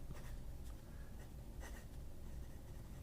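A broad steel fountain pen nib scratches faintly across notebook paper in short strokes, quiet and close with no talk.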